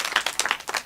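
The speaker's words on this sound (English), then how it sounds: "Clap for me." Audience members at a comedy show clap for the comedian, a brief scattering of sharp, uneven claps lasting under a second.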